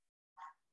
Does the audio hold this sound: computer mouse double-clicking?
no